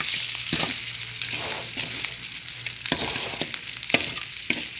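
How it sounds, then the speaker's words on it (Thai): Crispy fried snakehead fish is tossed in a hot pan with southern Thai curry paste, giving a steady sizzle broken by repeated scraping stirs and clattering tosses close by, with no one talking. "ใส่ปลาลงไปเลยนะครับ ปลาลงมาเลย"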